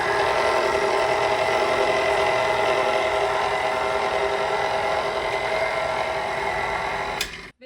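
A stand mixer slowly mixes chopped pecans into divinity candy, a loud steady motor whine and rattle running evenly before cutting off abruptly near the end.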